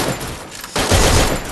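Rapid gunfire from the mobile shooter game Free Fire, with a dense loud volley of shots that drops out briefly and then returns in a sustained burst.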